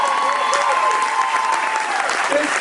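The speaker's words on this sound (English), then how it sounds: "Will you please give them a round of applause?" A cruise ship show audience claps and cheers in a steady, full round of applause lasting a few seconds, with a voice faintly audible through it.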